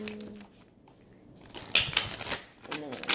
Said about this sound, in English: let's just do 2 more shuffles and split the deck